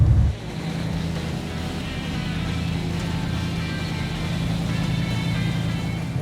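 An old-school 1959 Southern California hot rod cruises along, a continuous low engine drone mixed with road and wind noise, steady and moderately loud, with no voices.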